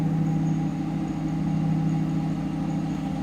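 A 2005 Cadillac XLR's 4.6-liter dual overhead cam V8 idles steadily with a low, smooth hum and a faint higher whine, running evenly and close by without any revving.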